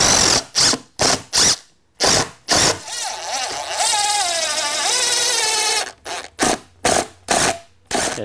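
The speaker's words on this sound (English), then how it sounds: "run this screw in. These are 3-inch construction screws." A power drill drives a 3-inch construction screw into an exterior door frame with about three seconds of steady, rising whir, framed by short sharp mechanical bursts before and after.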